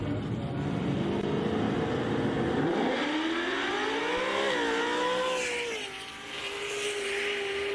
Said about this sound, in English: Side-by-side drag racing, both leave together.